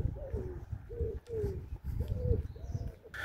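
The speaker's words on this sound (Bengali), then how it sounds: "ঘুঘু পাখি ডাকছে।" A dove coos outdoors on a cloudy spring morning walk by a lake in Loughborough, its soft low calls repeating in a steady rhythm at moderate distance, fairly faint with light ambient noise.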